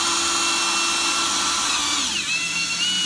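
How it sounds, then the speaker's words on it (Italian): A Parkside Performance 20V cordless impact drill drives a screw into wood with controlled pressure, its loud, close motor whine running steadily and then dropping in pitch as the screw nears the surface, with no talking. "se provo ad avvitare la stessa vite dosando la forza quando la vite si avvicina alla superficie"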